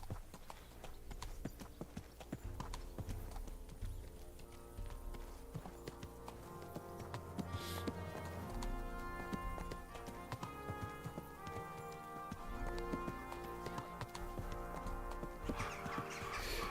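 In Kingdom Come: Deliverance 2, a horse in Crusader-style gear clip-clops along in a steady gait beneath continuous game music, the hooves soft and fairly faint throughout.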